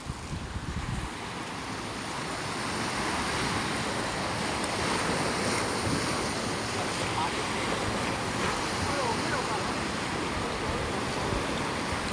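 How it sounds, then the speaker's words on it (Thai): Strong, high ocean waves roll onto Samila beach in Songkhla, a loud, continuous wash of surf that swells after the first second and stays dense, with wind buffeting the microphone. "คลื่นแรงนะครับ น้ำแรงคลื่นสูงนะครับ"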